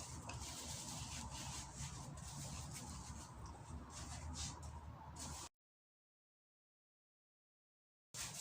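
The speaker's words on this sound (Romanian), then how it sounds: "Deci la fel le presez ca să scot aerul." Grape vine leaves pressed by hand to push out air before freezing them raw, a steady close rubbing and rustling crackle for about five seconds, then silence, with the sound resuming briefly at the end.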